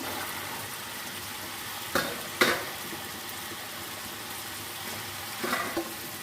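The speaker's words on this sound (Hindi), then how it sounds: "अभी हम मसाले में मटर ऐड कर देते हैं।" Peas added to spiced korma masala frying in a pan: a quiet steady sizzle with a few sharp clatters as they go in, and soft stirring scrapes near the end.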